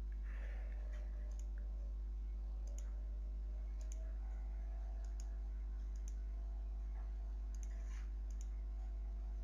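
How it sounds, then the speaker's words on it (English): Computer keyboard keys click in small scattered bursts while someone works on a photo-editing shortcut, fairly faint and close, over a steady low electrical hum with no talking. "I'm using the keyboard, I mean Control Alt Z to undo"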